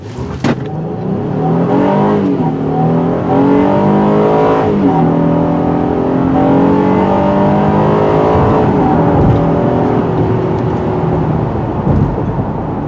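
A 2019 Honda Passport AWD Elite accelerates hard in sport mode, its engine note climbing through rising harmonics, dropping at shifts and climbing again, loud and steady throughout with no talking.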